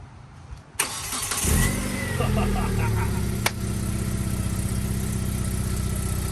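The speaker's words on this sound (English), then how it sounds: "We're gonna do the first start today." A 2007 Hyundai Tiburon automatic, just fitted with new O2 sensors, cranks briefly and fires up loud and close, then settles into a steady, even idle that runs on.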